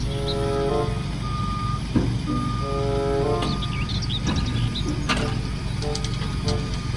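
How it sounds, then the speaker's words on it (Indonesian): Toy tow truck giving off a repeating electronic reversing beep, a series of evenly spaced high tones over a steady motorized whir, close and fairly loud throughout. "Mobil truk derek."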